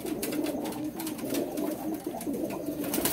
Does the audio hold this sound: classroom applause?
no